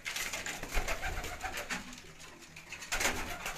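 Champion pigeons coo softly and repeatedly at close range on a rooftop loft, with faint background noise around the calls.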